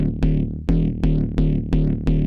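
A randomized patch on the Massive X synthesizer plays six evenly spaced, punchy tonal notes with bright attacks and short decays, loud and alone.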